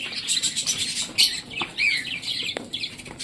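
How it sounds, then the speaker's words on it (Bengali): A classical budgerigar chatters close by with rapid, bright chirps and warbling trills, accompanied by a few sharp higher calls and faint wing flutters in the background. "এইটা যে দেখাচ্ছি দেখো, এত সুন্দর একটা অ্যাক্টিভ পাখিটা, সেটা হলো ক্লাসিক্যাল বাজিগার পাখি"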